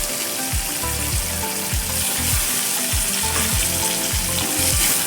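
Garlic, curry leaves, coriander and finely chopped onion sizzle steadily in a hot pan for a dhaba-style masoor bhaji, with regular scraping strokes of stirring close by and no voices.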